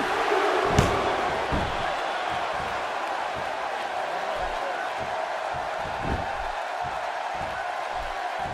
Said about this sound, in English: That's how you make this crowd stand on its feet.